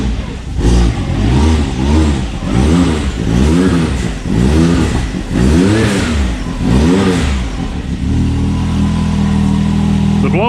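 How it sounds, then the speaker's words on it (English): A Can-Am Maverick X3 XRS engine revs in about seven rising and falling bursts, loud and close, with a turbo blow-off valve venting between them before it settles to idle. "the blow-off valve still works"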